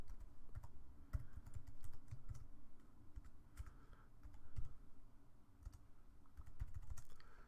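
Typing on a computer keyboard, a quiet, close run of irregular key clicks with brief pauses, no voices.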